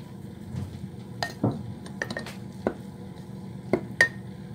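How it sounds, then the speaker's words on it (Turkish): A plastic or wooden spoon stirs a thick, cake-batter-like sourdough starter of flour and chlorine-free drinking water in a bowl, giving a few soft scrapes and clinks against the container at an uneven pace, close by with no talking. "Plastik kaşık ya da tahta kaşıkla karıştıracağım."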